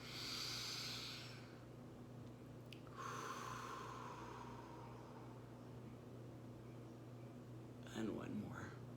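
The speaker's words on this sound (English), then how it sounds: "We'll take 3 breaths together." Deep breaths during a yoga breathing exercise: a long, soft inhale, then an airy exhale, with one more short breath near the end, quiet and close against a faint background hum.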